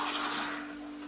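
Water is poured into a juice mixture with spinach in a blender jug, a short, close, steady splashing rush that fades slightly near the end.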